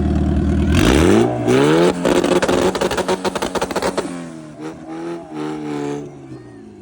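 A Toyota 86 and a Honda SIR launch in a drag race, engines roaring up through rapid gear changes with stuttering rev bursts, loud and near, then fading as the cars pull away.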